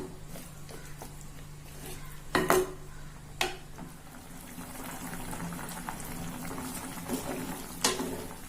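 Vegetables for white sambar simmer and bubble in a pot of water, with a few sharp clinks of metal utensils against the cookware and a steady low hiss underneath.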